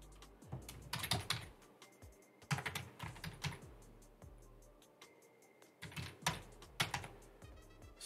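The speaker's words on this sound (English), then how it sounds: "So you just type the name of the person here, the author," Computer keyboard typing as an author's name is entered into citation software, bursts of crisp close key clicks in uneven runs with short pauses, no voices.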